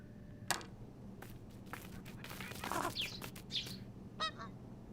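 Birds landing at tables in the video game Tic-Tac-Crow: several short honking and squawking bird calls scattered over a low background hum, fairly quiet.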